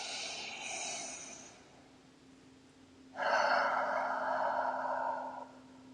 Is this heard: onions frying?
no